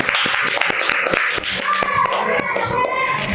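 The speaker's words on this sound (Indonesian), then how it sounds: "Berikan tepuk tangannya." A classroom of students claps together after a group presentation, a dense run of sharp hand claps lasting a few seconds, close and fairly loud, with children's voices mixed in.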